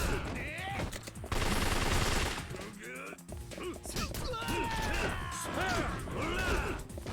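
Enemy gunfire in the video game Yakuza 3 Remastered: bursts of rapid shots and impacts in a dense, busy game mix, with voices mixed in.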